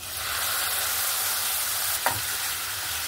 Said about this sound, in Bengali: ততক্ষণ আমি কষাবো যতক্ষণ না টমেটো কাঁচা গন্ধটা চলে যায় আর মশলা থেকে তেলটা ছেড়ে দেয়।